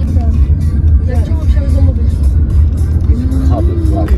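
A car driving through a city centre, heard from inside as a steady low engine rumble and road drone, loud and continuous, with a person talking over it throughout.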